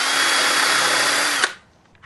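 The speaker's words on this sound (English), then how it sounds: "I'm going to go ahead and pre-drill it" A power drill bores a pilot hole into inexpensive wooden molding for a screen door, a loud, steady whine lasting about a second and a half before cutting off abruptly and spinning down.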